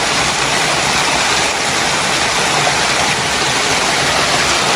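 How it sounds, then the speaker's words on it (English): Water rushes out of a pipe at the Ikogosi warm spring in a loud, dense, continuous roar that stays steady throughout, with no voices. "this is the place the water is rushing out from"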